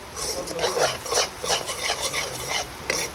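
Spices with turmeric and masala frying in a pan outdoors, heard as rhythmic stirring scrapes repeating about twice a second over a soft sizzle.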